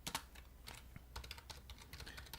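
Rapid typing on a computer keyboard while a PHP project's name and details are entered, with steady clusters of light, close key clicks running throughout and no voices.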